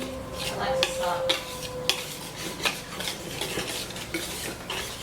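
A whisk circling through a flour mixture in a bowl for pound cake, giving a steady rhythmic scraping with regular clinks against the side, close and moderately quiet.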